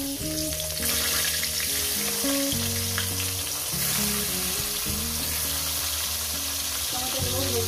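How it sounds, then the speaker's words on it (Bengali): Tomatoes frying in hot oil in a pan, a steady loud sizzle with light stirring, accompanied throughout by background music and no talking. "টমেটোগুলো ভেজে আমি তুলে নেব।"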